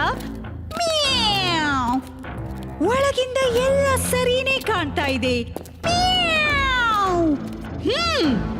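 Cartoon cats let out a string of high, sliding meows and drawn-out whines, several separate cries in a row, mixed with a child-like voice talking between them.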